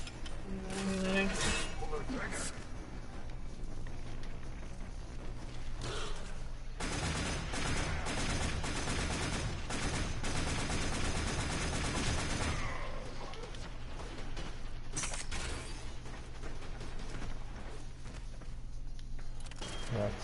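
Gunfire in the co-op shooter Warframe, dense bursts of rapid shots in two heavy stretches with sparser pops between, over game sounds and a voice talking.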